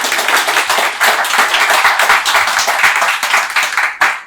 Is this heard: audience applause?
yes